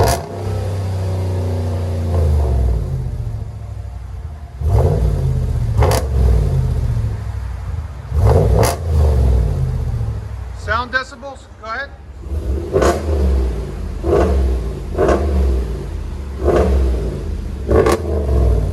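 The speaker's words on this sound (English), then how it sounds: "So we went with a Dynomax race bullet. It sounds so much better." A RAM 5.7L HEMI V8 truck engine rumbling and revving repeatedly through a loud, throaty Dynomax Race Bullet exhaust, with sharp throttle blips and brief talk in between.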